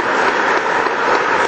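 Audience applause at a state Republican party convention in Wisconsin, a dense, steady wash of clapping from a large crowd held at full strength for a short stretch without any voices.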